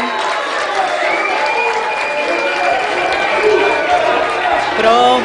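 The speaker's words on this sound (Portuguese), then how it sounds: "Podem para todos aplaudir. os candidatos, um grande aplauso" A studio audience at a televised Rio de Janeiro election debate applauds the candidates in a steady, dense wash of clapping, with sustained tonal sounds and voices running underneath.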